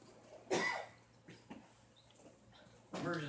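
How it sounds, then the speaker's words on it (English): A sharp cough rings out, followed by a couple of softer throat sounds, and a voice briefly starts up at the end. "you're going to continue to cough for a while"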